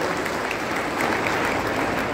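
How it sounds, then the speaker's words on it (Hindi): A hall audience at a Chaitanya Kashyap Foundation talent felicitation ceremony claps steadily and loudly for Chetan Kashyap, a dense wash of applause with no pauses. "एक बार उनके लिए जोरदार तालियां बनती है कश्यप जी के लिए"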